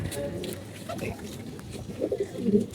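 A pigeon coos softly amid close background noise, with low, throaty bursts growing a little louder toward the end; no clear words are spoken.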